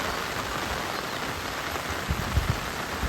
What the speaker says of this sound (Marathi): पाऊस पडतच आहे सततधार पाऊस पडत आहे